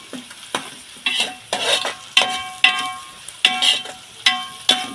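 Chili is stirred and fried in a pan, with a spoon scraping and mixing at a steady rhythm of about ten strokes over a soft sizzle. No one speaks.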